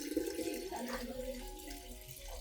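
Clean water, about 1.5 liters, pours close up into a plant solution to dilute it, giving a steady splashing, gurgling stream.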